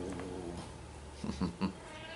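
A pet cat gives a few short, soft meows in quick succession near the end, close but quiet, with a low room hum underneath.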